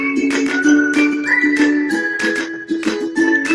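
A chiming, tinkly click effect from an AnyFlip e-book plays in several short bright bursts with sustained tonal notes, fairly loud and free of talk.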